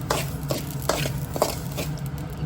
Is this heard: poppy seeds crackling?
yes